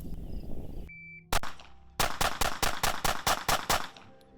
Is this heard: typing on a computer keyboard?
no